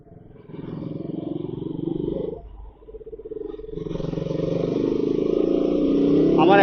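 A motorcycle is ridden along, its engine droning steadily with a brief dip and throttle change midway before the hum swells back and grows louder toward the end.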